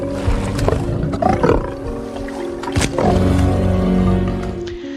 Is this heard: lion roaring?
yes